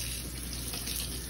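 Steady stream of warm tap water running into a sink, a continuous even splashing rush that fills the whole moment with no voices.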